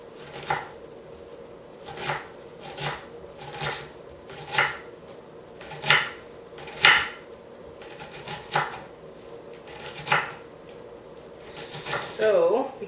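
A knife chops an onion into small pieces on a board, sharp evenly spaced thuds about once a second, close and clear, with a low voice of someone talking underneath.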